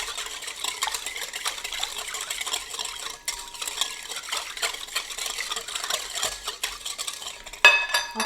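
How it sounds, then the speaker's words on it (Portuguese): A utensil stirs a bread dough mixture with sugar added in a bowl, making continuous soft scraping and clinking strokes at close range, with a sharper knock near the end and no talk. "Damos aqui mais uma mexidela"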